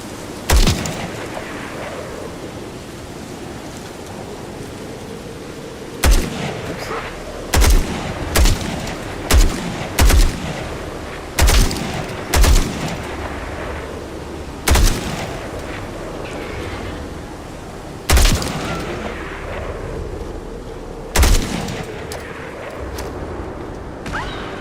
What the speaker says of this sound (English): See, there, that's the impact grenade.